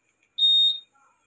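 A Honda Click 150i scooter security alarm gives a single short, sharp electronic beep, clear and close, with faint quiet moments before and after.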